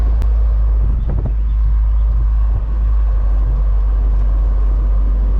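A 1998 Mercedes-Benz SLK 230 with its inline-four engine driving at low RPM, top down, giving a steady loud low rumble and road noise throughout, with no talk.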